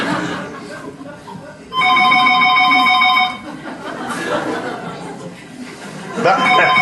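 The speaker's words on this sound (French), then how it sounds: "ça c'est la sonnerie de quelqu'un qui se trompe" Telephone ringtone from a French stage comedy, with a loud electronic ring lasting under two seconds and a second ring starting near the end, amid audience chuckles and chatter.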